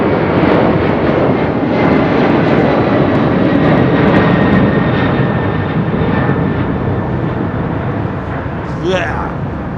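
A Boeing 767-300 jet takes off at London Heathrow, its engine roar loud and steady throughout, fading slightly toward the end, with faint talk underneath.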